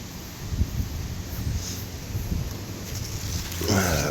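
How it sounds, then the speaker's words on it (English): Strong wind gusts blow through a garden of sunflowers before a storm, a continuous rushing roar with rustling and buffeting against the microphone that swells louder toward the end. "Right when the strong winds come through, everything was almost doubled over."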